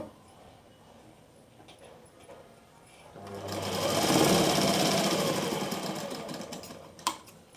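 An electric sewing machine stitches piping onto fabric, a rising mechanical whir that swells to a steady run for several seconds, then slows and stops with a click, after quieter handling sounds.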